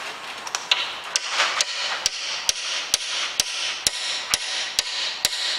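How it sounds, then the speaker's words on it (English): A hammer taps lightly and repeatedly on a part of a Hobart A200 mixer, with evenly spaced sharp metallic strikes about every half second over a steady background hiss. "Just the weight of the hammer, I'm not hitting this hard by any stretch."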